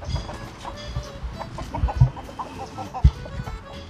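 Australorp and native chickens cluck and murmur close by during feeding, a steady run of soft clucks with a few sharper calls standing out, unmasked by any talk.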